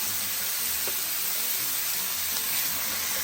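Ground beef browning in a pan over medium-high heat, a steady hiss of sizzling fat with a soft faint crackle running throughout, no voices.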